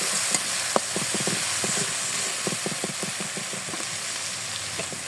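Spice paste for a fish and green banana curry sizzling in a pan, with rapid scraping strokes of a spatula stirring it in a quick rhythm.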